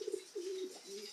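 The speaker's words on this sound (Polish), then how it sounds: "Super gołębie, bardzo spokojny" Racing pigeons coo softly inside a loft, giving a few short low coos followed by a longer drawn-out call, faint and close by.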